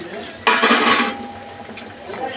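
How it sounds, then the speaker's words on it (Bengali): Fried tengra fish dropped into a pot of boiling curry, a sudden burst of splashing sizzle that fades after about half a second, followed by a faint clink of a utensil. "এবার ভেজে রাখা ট্যাংরা মাছগুলো দিয়ে দেব।"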